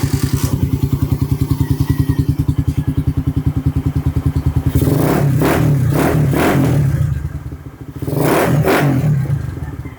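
A warmed-up Suzuki Raider 150 motorcycle, freshly overhauled with a 66mm block, fires on a single kick and idles with a steady rapid thump, then revs up loudly in several sharp blips before settling, close by with no talk.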